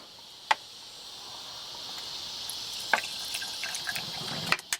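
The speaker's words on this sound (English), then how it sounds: "I just took the fuel line off of the fuel pump and stuck the hose into this bottle" Gasoline runs from a fuel line hose, pulled off the fuel pump of a 1967 Chevy C10 pickup, into a bottle: a steady, soft trickling hiss of liquid with a few faint clicks, continuous and close.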